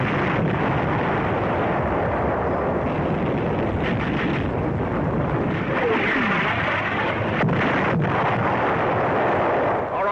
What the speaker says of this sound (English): Artillery begins to find the range.